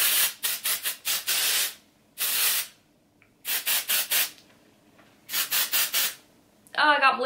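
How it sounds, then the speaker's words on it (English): Living Proof Dry Volume and Texture Spray is sprayed into hair in short aerosol bursts, several quick puffs in clusters separated by pauses, loud and close, with a brief voice at the very end. "This is the Living Proof Dry Volume and Texture Spray."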